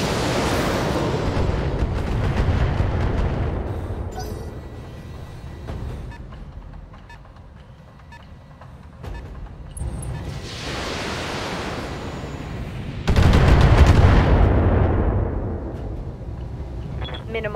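Mech weapons fire on a target in the Battletech video game, producing several heavy, roaring bursts with quieter gaps between them, with some talk mixed in.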